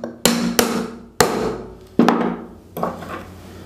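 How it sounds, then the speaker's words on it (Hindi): Five sharp hammer blows with brief ringing decays, struck lightly to seat the cover of an 18-inch cooler motor during repair, close and alone without talk. "इसे उठा के हल्का हल्का ठोक देना हमें"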